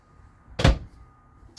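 A small 2-drawer medicine cabinet in a 2022 Forest River Salem Hemisphere 19RBHL travel trailer bathroom thumps shut once, a short close wooden knock in a quiet room, followed by a faint click near the end.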